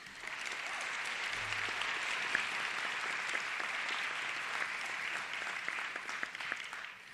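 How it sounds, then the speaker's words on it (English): Sustained applause from an audience at a high school recognition night, steady and fairly distant, filling the hall evenly without pause. "So give yourselves another round of applause."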